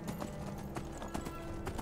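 Horse hooves clip-clop at a steady pace in the video game Skyrim, a quick, even run of hoofbeats heard at moderate loudness with a faint ambient bed underneath.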